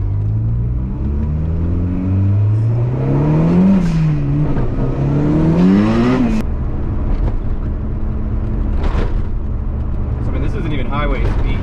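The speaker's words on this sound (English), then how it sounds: "Let's just kind of do a little slight drive here and just see if I can keep the fan off." Honda CRX driving slowly at low speed, a steady engine hum with rising and falling gear pitch and road rumble inside the cabin, with someone talking throughout.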